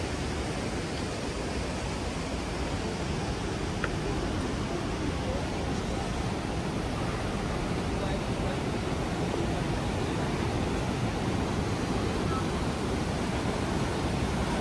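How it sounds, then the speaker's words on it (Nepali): Phutphute waterfall roaring with a steady, dense rush of water that stays loud and continuous throughout, close by and with no break. "यो चाहिँ हो हाम्रो फुतफुते झरना"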